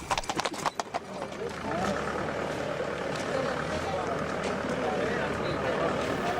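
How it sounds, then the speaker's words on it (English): Horses trot along a busy road at the Appleby Horse Fair, a few clear hoof clip-clops at the start before a steady rumble of traffic and crowd noise takes over, with a voice talking over it. "This road is very busy, with many horses going up and down at great speed"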